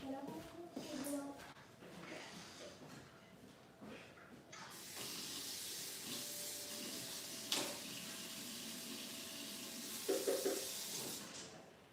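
Tap water runs steadily in a steady hiss while hair is rinsed during a color correction, starting softly and then turning into a loud, continuous spray. Faint clatter and low voices come before it.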